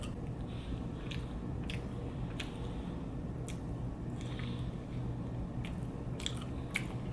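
Chewing and biting on Pizza Hut double fondue shrimp pizza, with soft repeated crunchy bites and wet mastication up close, no talking.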